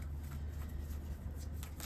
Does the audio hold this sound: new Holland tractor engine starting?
no